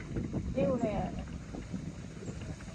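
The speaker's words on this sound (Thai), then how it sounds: "ตรงนี้ลมตึงเลย ลมเย็นด้วยนะ" Strong wind buffets the microphone with a low, gusty rumble while someone talks briefly.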